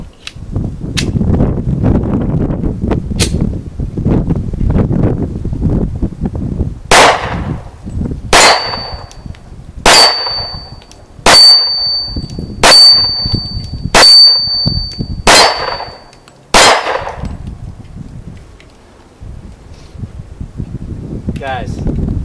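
Springfield V10 Ultra Compact 1911 .45 pistol fired at an outdoor range: seven sharp, loud shots spaced about a second or so apart in the middle, with wind and handling noise before and after.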